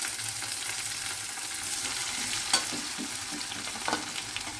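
Chopped ginger and chilli frying in a pan give a quiet, continuous sizzle, with soft stirring scrapes and a couple of sharper taps of the spoon against the metal.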